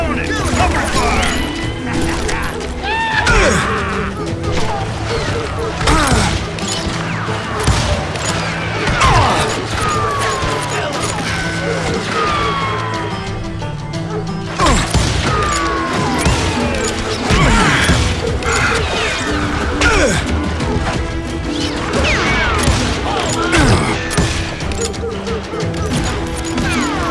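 Gunfire rattles through a Call of Juarez Gunslinger shootout: repeated sharp shots and crashes over about 27 seconds, loud and busy, mixed with game voices and a steady background bed.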